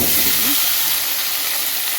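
Tomato frying in oil in a pan, cooked for a chicken masala, gives a loud, close, constant hiss of sizzling with a brief stirring clink at the start. No one speaks.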